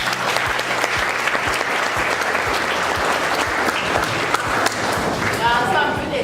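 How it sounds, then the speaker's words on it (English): Students at a school chess tournament break into sustained applause, a dense, even roar of clapping with a few louder individual claps and some voices mixed in. "Can you give ourselves a round of applause?"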